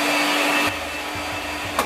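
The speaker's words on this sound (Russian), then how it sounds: "У нас тут есть такой фен." A handheld hair dryer blows with a steady, loud, breathy whoosh, close by. Its tone shifts slightly partway through as the airflow changes, with a brief bump near the end.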